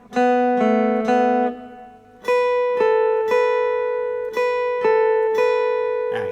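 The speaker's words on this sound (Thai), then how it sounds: "จากนั้นเพื่อนๆดีดสาย 1 2 1 เว้นจังหวะนิดนึงแล้วก็ 1 2 1" Acoustic guitar picking a song intro figure on strings one and two, sounding a ringing three-note pattern, pausing briefly, then repeating it with each note plucked clearly and sustaining, close and alone without talk.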